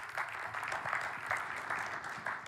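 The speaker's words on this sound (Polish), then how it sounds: "bardzo proszę o wielkie brawa" An audience applauding at an insurance congress panel introduction, steady sustained clapping from a crowd in a hall, with no talk over it.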